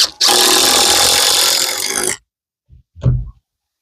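A power driver sinks screws into gable roof framing on an 8x8 tiny house, giving one loud, sustained whirring burst of about two seconds, followed after a short pause by two brief thuds.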